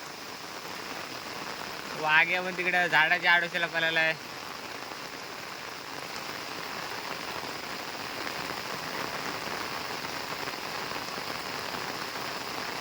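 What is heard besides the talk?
heavy rain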